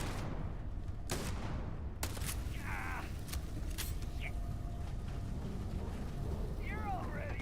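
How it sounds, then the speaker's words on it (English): Gunfire from the space video game Starfield: several sharp, loud shots in quick succession over continuous background game audio, with a few brief chirping effects between them. "I didn't realize I could shoot that fast"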